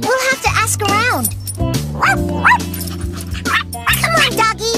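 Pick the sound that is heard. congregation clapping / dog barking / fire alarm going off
dog barking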